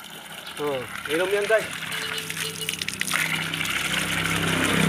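Water gushes steadily from a coin-operated automatic water dispenser in Barangay Ventinilla, a continuous pouring rush that grows slightly louder toward the end, with people chatting over it.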